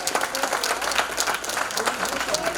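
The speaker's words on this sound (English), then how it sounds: "can I hear a round of applause?" Brief burst of audience clapping at a membership meeting, sparse uneven claps from a modest crowd with some voices murmuring underneath.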